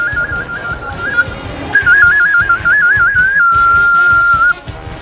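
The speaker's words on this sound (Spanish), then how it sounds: "En español pues le llaman silbato, pero en náhuatl se llama cocohuilo." A cocohuilo, a traditional Nahuatl clay whistle, blown loudly and close in short trills and warbling pitch bends, then one long steady tone, with no talking.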